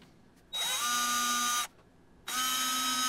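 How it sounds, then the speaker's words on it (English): Power drill boring pilot holes for cabinet door hinges on a mobile miter saw station; two close, loud bursts of a whining motor, each about a second long, separated by a short quiet pause. "drilling the pilot holes"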